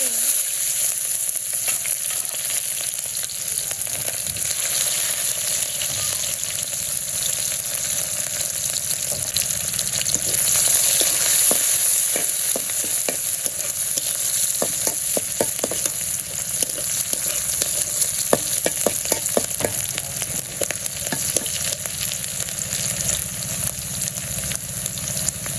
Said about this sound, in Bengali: তোমার পেঁয়াজ ভাজা হয়ে গেছে, আদা বাটা রসুন বাটা সব কিছু দিয়ে দিই।